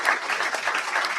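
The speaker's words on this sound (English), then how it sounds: "Let's give them a round of applause." Brief round of applause from a church family gathering, a short burst of steady, bright clapping from a crowd, close and even throughout.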